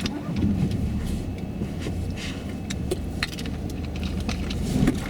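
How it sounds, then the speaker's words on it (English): A car approaches from behind during a driving test stop, its low engine rumble and road noise steady and fairly loud throughout, with a dull interior cabin hum. "This car come up behind me."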